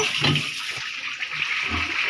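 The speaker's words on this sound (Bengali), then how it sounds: "দেখুন আম্মু এখন এই বালতিটাকে ধুয়ে নিচ্ছে" A bucket being rinsed out with stored rainwater, giving continuous splashing and sloshing water nearby with slight swells of movement and no talk.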